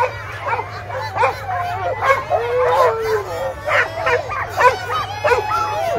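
A crowd of sled dogs barking, yipping and howling excitedly all at once at a sled dog race, with voices and cheering mixed in underneath.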